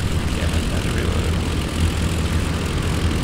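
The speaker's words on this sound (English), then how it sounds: "Wow, that engine went out quick." Failing piston aircraft engine in the flight simulator IL-2 Sturmovik: Cliffs of Dover, a loud, steady low propeller drone with a rough, uneven pulsing texture and no voices.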